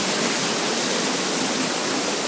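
Water pouring at Kawasan Falls fills the air with a loud, steady, broadband roar. The rushing is constant and close, with no voices over it.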